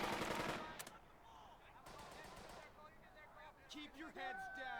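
Automatic machine gun fire in the WWII tactics video game Burden of Command, a loud rapid burst at the start followed by scattered shots and battlefield effects, with a voice speaking partway through.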